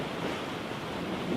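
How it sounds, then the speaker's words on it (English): Steady broadband roar of wind and breaking waves aboard a sailboat beating upwind in 15 to 20 knots off the Coast of Death, constant and close with no talk. "15 to 20 knots of wind."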